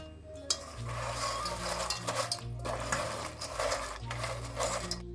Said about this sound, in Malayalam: ഇതിലേക്ക് പൂന്തിയിട്ട് കൊടുക്കാം ഇത് നന്നായിട്ട് മിക്സ് ചെയ്ത് എടുക്കാം